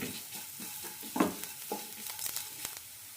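Green chilli with turmeric powder and a pinch of salt being stirred and sautéed in a pan: soft sizzling with scraping stir strokes and light clicks, fairly quiet, no talking.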